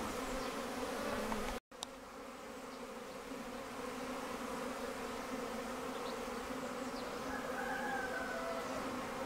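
Honeybees buzz near sun-warmed hives during a February cleansing flight in a light breeze, a dense steady hum of many insects with individual bees passing close, and one brief dropout.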